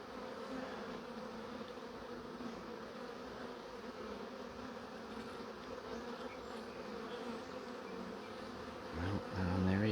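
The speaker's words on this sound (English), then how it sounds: "These are very busy bees." Busy honeybees buzz in a dense, continuous drone during a hive inspection, close and steady throughout, with a brief louder rustle at the end.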